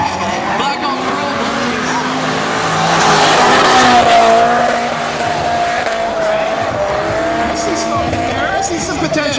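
Drift cars battling at the CSCS 2017 Drift Finals, engines roaring with sustained tire squeal that swells to a peak midway, with people talking over the noise.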